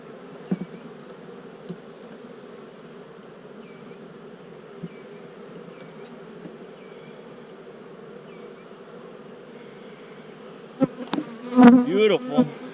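A dense, steady buzz of many honeybees at an open hive hums close by throughout, with a brief clatter near the end.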